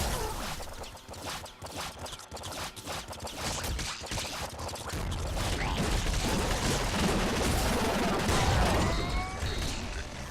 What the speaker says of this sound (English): Another plasma cannon.